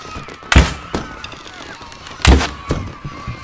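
Gunshots in a VR shooting video game played on an Acer VR headset, two loud, close sharp blasts about two seconds apart, each followed by softer thuds and a faint electronic tone, no talking.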